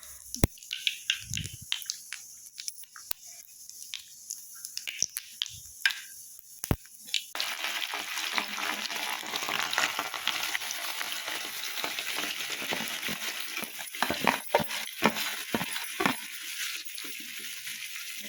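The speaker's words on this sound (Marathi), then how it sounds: "जिरे थोडे तडतडत आहेत" Cumin seeds crackle and masala-coated prawns fry in hot oil for a Kolhapuri-style prawn masala. Sharp isolated pops give way to a dense, steady sizzle close to the pan, with scattered louder crackles and no speech.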